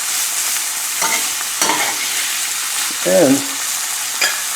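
Large shrimp fry in a hot pan with oil or butter left over from cooking sausage, giving a steady close sizzle with occasional louder spits and stirring scrapes, and one brief word spoken.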